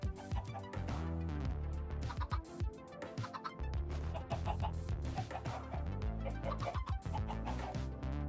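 Chickens clucking in the Minecraft video game, a flock of six following the player, with repeated short clucks mixed into a dense, loud layer of game music that continues throughout.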